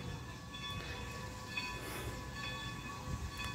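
A Great Western 90 steam train rumbles along steadily with a low mechanical roar and faint high whines, sounding moderately close and continuous.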